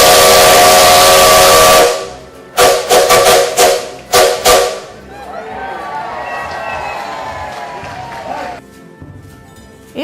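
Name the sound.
steam locomotive whistle of the Maria Fumaça train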